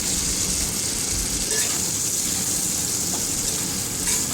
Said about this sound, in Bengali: আলুগুলো দিয়েও বেশ ভালো করে মাথা আর মশলার সঙ্গে কষিয়ে নিলাম